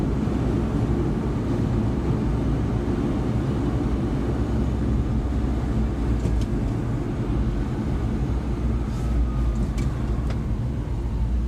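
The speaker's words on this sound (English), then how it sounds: "right now I am in 5th gear doing about 60 kilometers an hour, and the truck's definitely not laboring or revving at all" Suzuki Carry non-turbo mini truck cruising in fifth gear at about 60 km/h: a steady, dense low engine and road rumble fills the cabin throughout without rising or falling.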